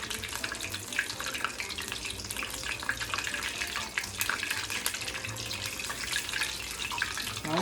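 Zucchini flowers deep frying in hot oil give a dense, steady crackling sizzle that holds at an even level throughout, with no talking.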